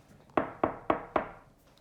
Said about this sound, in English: The robbers were banging on the door.